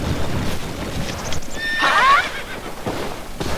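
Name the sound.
horse neighing and approaching in a Zelda video game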